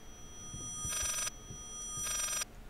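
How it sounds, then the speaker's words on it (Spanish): In the horror game Layers of Fear, an old telephone rings twice with a bright electric bell, each ring lasting about a third of a second and separated by a pause. A faint steady tone and low ambience continue underneath. "Oh, qué gusto el teléfono."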